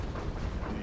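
Dense, rumbling low-end booms roll continuously, rapid cannon fire in C&C Generals Zero Hour, steady and fairly loud with no pauses.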